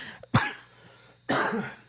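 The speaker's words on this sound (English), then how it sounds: "I almost got through this whole podcast without coughing" Two sharp coughs, about a second apart, each a short burst with a rough tail; close and fairly quiet, with no talking.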